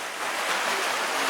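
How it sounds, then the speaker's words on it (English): Sea waves surging and splashing hard against rocks at Mermaid Grotto, a dense, hissing wash of water that swells slightly midway, close and loud with no voices. "waves that come in, they splash quite hard on this area here"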